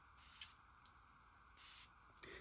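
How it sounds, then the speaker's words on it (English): A Dua brand fragrance atomizer sprays perfume, a soft hissing puff followed by a second, longer burst and a faint trailing spritz, close and quiet, with no voices. "I'm just going to spray it so y'all know how it smells."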